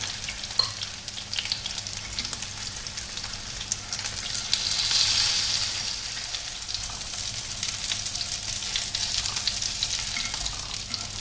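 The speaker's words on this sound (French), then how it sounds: "je vais faire cuire donc sur feu plutôt moyen" Tender chicken patties sizzle steadily in a pan over medium heat, a continuous close crackle of frying with a slight swell partway through and no talking.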